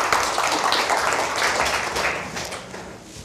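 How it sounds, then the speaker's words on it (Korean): An audience at a lecture breaks into dense, sustained applause that stays loud and even before slowly fading toward the end. "박수 한번 부탁드리겠습니다"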